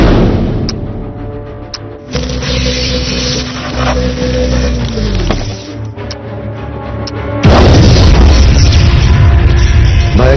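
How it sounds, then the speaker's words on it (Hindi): A heavy explosion booms out after several seconds of low rumbling tones, its roar loud and sustained to the end. "भयंकर विस्फोट हुआ"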